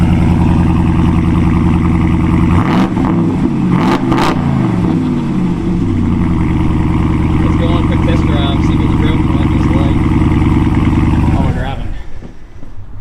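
A loud Ram 2500 pickup truck engine with a Borla S-Type aftermarket exhaust idles deeply, then revs sharply twice in quick succession before returning to a rumbling idle that cuts off near the end.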